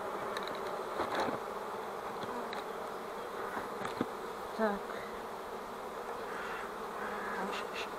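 Honey bees buzz at an open hive in spring, a steady droning hum close by with a few handling knocks. A voice says one short word.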